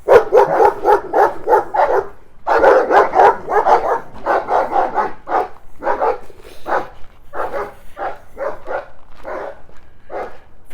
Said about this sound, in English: Actually, that dog sounds unhappy enough.